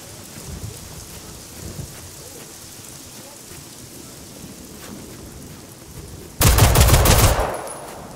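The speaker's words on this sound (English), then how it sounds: "Is there snow in that rain?" Rain in the video game Generation Zero hisses as a steady, even wash of noise, broken near the end by a sudden loud, crackling burst that stands out sharply before fading.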